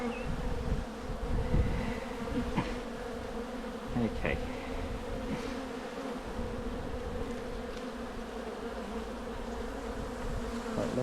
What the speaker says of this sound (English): Quite a lot of bees in that one.